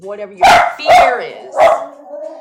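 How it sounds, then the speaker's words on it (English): A dog barks three times, loud and close, over a man's speech. "Sorry about my dog."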